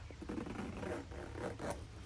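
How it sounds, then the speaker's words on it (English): Zipper on a NOMATIC 20L backpack pulled in a few quick, scratchy strokes, close and faint, with no voices. "The zipper just sounds bad."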